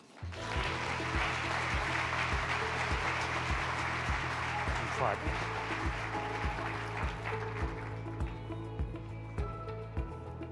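Audience applause welcoming Dr. Raj Chetty to the stage at a conference general session, steady and full clapping from a large crowd that fades slightly toward the end.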